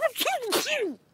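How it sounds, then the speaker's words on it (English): A voice produces a sharp, exaggerated sneeze with a rising then falling vocal whoop, close and loud, ending abruptly. "What are you sneezing about?"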